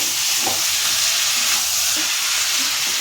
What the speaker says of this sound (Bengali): বেগুন আলুটা একটু ভালো করে কষে নেব